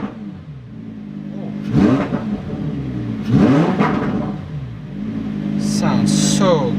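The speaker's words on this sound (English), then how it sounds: "Rev it up in Corsa mode." Lamborghini engine revving in Corsa mode, loud rising and falling throttle blips in two or three bursts, with people talking over the engine throughout.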